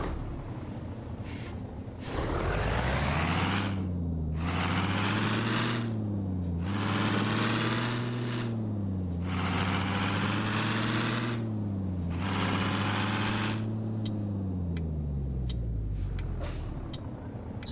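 Trucks in Euro Truck Simulator driving a Brazilian highway near Uberaba, with several loud, close hisses of air brakes releasing over a steady, rising and falling diesel engine drone.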